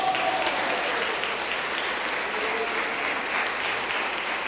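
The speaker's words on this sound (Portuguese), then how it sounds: "toma uma salva de palmas para Jesus" A church congregation applauds during an evangelical service, a dense, loud, continuous roar of many hands clapping that stays level from start to finish with no voices standing out.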